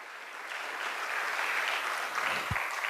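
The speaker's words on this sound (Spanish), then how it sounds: "Denle un aplauso al Señor fuerte si se lo quiere dar" A church congregation applauding during a Spanish-language sermon, steady dense clapping from a crowd throughout, moderately loud and without speech.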